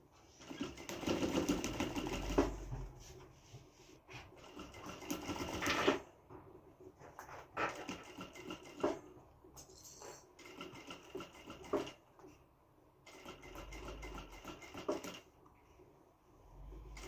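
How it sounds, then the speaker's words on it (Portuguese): Sewing machine stitching a sublimated document holder, running in several quick bursts of rapid mechanical chatter separated by short pauses, close and moderately quiet, with faint handling noises between runs. "Vou começar aqui a minha costura da parte de trás."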